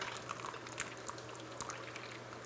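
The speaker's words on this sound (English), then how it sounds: "the last 10, 15 seconds of your pour, you're gonna pour directly into the center" A thin stream of water pours steadily into a Chemex coffee maker, soft splashing and trickling throughout, quiet and close.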